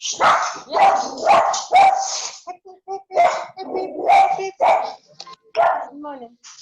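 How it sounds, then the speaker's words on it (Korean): A pet dog named Happy barks loudly and repeatedly in a home during an online class call, the sharp barks interleaved with overlapping close speech. "개 짖는 소리가 너무 크게 들려"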